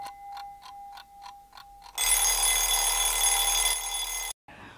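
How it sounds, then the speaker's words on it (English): A kitchen oven timer set for about 20 minutes ticks in a steady series of short pulses, then breaks into a loud, sustained metallic ringing for a couple of seconds before stopping abruptly. "we're going to set the timer for about 20 minutes"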